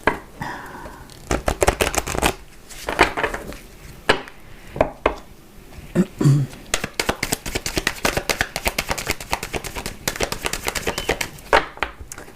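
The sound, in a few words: shuffling and cutting a deck of cards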